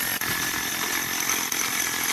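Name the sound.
hammer drill drilling through a concrete curb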